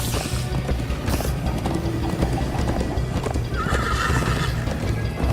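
Horse hooves clip-clop at a steady gallop with whinnies and neighs in Minecraft Story Mode, loud and continuous, with mechanical clicking and ratcheting sounds in the background.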